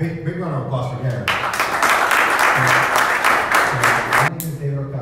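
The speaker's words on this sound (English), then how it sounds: "Big round of applause for Gary." Someone speaks, then an audience at a Toastmasters keynote in Miami breaks into loud applause lasting a few seconds before fading as his voice returns.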